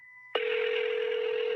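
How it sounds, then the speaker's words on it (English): A telephone gives two steady pure tones, then switches abruptly to a louder, single steady tone with a buzzy texture that holds to the end, heard alone and close. "Was that your phone?"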